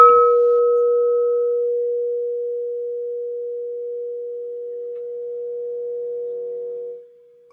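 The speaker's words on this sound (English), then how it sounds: "as I strike the bowl" A singing bowl is struck once and left to ring, a clear, steady sustained tone with faint shimmering overtones that slowly fades over several seconds, close and alone with no voices.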